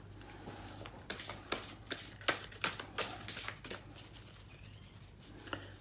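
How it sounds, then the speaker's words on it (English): Tarot cards being shuffled by hand up close, a run of quick papery riffles and soft flicks in irregular bursts, fairly quiet and without any talking. "I hope you can see me shuffling."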